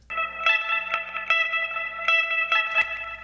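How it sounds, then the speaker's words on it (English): Sustained electric guitar chords drenched in chorus, reverb and echo, shimmering and swelling with a few brighter plucked accents, no voices. "So there is also this ambient guitar."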